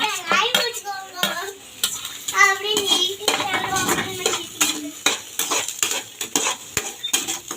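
Tomato and onion stirred in a cooking pan, with repeated sharp clinks and scrapes of a spoon against metal over a light sizzle, close and uneven, while voices chatter in the background.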